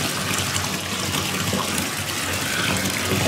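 Bath water pours steadily from a tap into a tub over a dissolving bubble bar, a constant close, full rushing and splashing.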